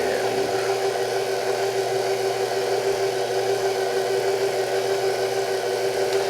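A kitchen mixer runs on low speed, folding flour and cocoa into batter for Black Forest brownies. Its even, close motor hum holds steady and moderately loud the whole time, with no voices over it.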